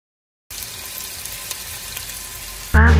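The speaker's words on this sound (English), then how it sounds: "you separate the meat and you put it in the pan or whatever this is called." Ground meat dropped into hot olive oil in a pan, a steady close sizzle that starts abruptly after silence and continues evenly, ending with a sudden loud clatter or scrape at the close.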